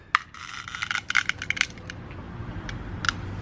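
A cheap Amazon tile cutter snaps a tile that still has its backing attached, giving a cluster of sharp, brittle cracks and gritty ticks up close, then a last faint crack.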